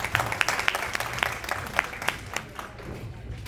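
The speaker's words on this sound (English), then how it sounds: "So please give him a big round of applause" An audience applauds, a scattering of distinct claps over a low crowd murmur, fairly distant, tapering off toward the end.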